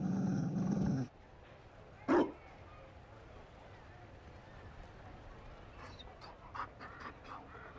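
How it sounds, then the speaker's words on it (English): A Mabari war dog in Dragon Age: Inquisition gives a brief growl and a few quiet panting breaths after a short burst of game ambience, fairly faint. "You found a dog."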